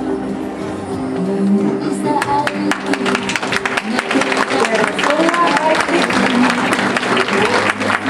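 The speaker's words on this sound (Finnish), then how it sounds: "Ja sitten voimme antaa heille oikein raikuvat aplodit." Sustained audience applause fills a children's spring fashion show, dense clapping rising and holding steady, with a voice speaking faintly underneath.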